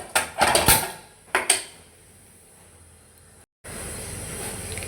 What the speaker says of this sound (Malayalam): എന്നിട്ട് നമുക്കൊരു ചട്ടി അടുപ്പത്ത് വെച്ച്